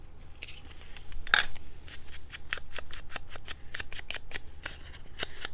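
Scissors trimming paper for a glued book-page ephemera project, a quick series of crisp close snips, a dozen or more in a steady uneven rhythm, quiet and with no voices.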